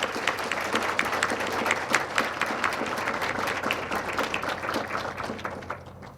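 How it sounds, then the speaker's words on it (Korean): A ceremony audience applauds at the decommissioning of a navy submarine, dense clapping with sharp individual claps rising and sustaining before tapering off at the end. "박수 쳐주시기 바랍니다."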